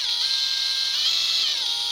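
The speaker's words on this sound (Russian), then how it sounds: "Разбавляю при помощи шуруповерта, потому что по-другому не получается" A cordless screwdriver drill fitted as a mixer churns thick paint for a BRDM armored vehicle, giving a steady, high-pitched motor whine with a slight waver in pitch, close and loud and continuing without pause, with no talking.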